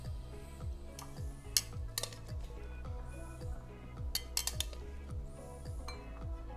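Pomegranate lime salad spooned from a serving dish into a small bowl, with soft scraping and scattered light clinks of a utensil against the dishes, quiet and close with a faint background hum.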